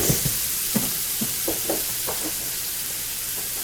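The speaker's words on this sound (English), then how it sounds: "what we're going to do is just cook this until our garlic and our onions get" Garlic and onions fry in a pan for a green hot sauce, a steady sizzle with a few soft knocks and stirs in the first half and no talk.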